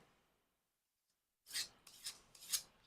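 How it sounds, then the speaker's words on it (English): A kitchen knife being honed before cutting a pineapple, giving three quick, bright metallic rasping strokes in a row after a moment of silence. "So if your knife is not sharp, take a second,"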